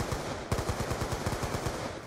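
Rapid automatic gunfire in COD Zombies on the Buried map, a fast even stream of shots under a steady background bed.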